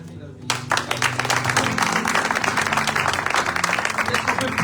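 Church conference congregation applauding and cheering in a dense, sustained wash of clapping that starts abruptly and carries on steadily, with crowd voices mixed in.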